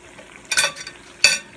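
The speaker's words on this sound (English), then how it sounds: "I got the other salmon croquettes in the pan frying." Salmon croquettes fry in a pan, with two short bursts of crackling sizzle and a faint stir between them over a quiet background.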